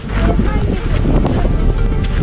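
Strong wind at Goðafoss waterfall in Iceland buffets the microphone in a constant low roar, while voices talk over it.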